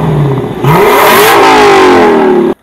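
A Lexus LC 500 Convertible in sport plus mode revs hard and close, the engine note dipping then sweeping up sharply and holding a loud, rising roar before cutting off abruptly at the end.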